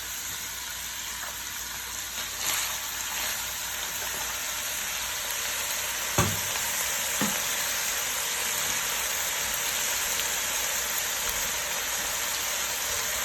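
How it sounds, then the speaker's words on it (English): Ground beef added to a pan of sausage for lasagna, giving off a constant hissing sizzle like steady rain, with a couple of faint clicks or knocks partway through and no voices. "Now, we're going to add our ground beef."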